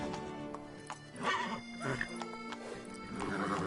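Roach, Geralt's horse in The Witcher 3 game, gives a clear close neigh and whinny amid snorts and hoof clip-clop, with a voice speaking briefly over it.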